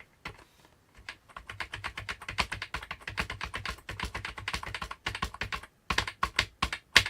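Rapid, close typing on the keyboard of an old Mac computer, a dense run of crisp clacking keystrokes with brief pauses, no speech.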